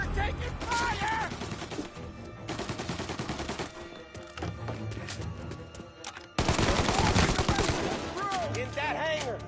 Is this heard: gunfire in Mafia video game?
yes